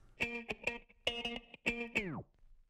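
A funk guitar loop spliced together from samples plays in a song, bright chords with heavy effects stabbing in short rhythmic bursts, the last chord bending downward as it fades.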